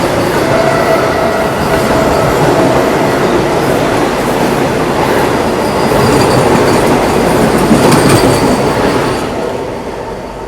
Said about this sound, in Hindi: अभी देखो आवाज़ आ गई, वंदे भारत एक्सप्रेस आ रही है अपनी NJP गुवाहाटी वाली